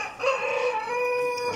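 A black Cochin rooster crows at a poultry show, one sustained, strident call with a harmonic-rich, slightly rough tone, close and loud, with a faint hall murmur beneath.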